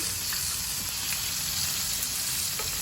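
Chicken nuggets fry in a pan of oil, a dense, even sizzle that holds steady and loud from start to finish, close up with no voices.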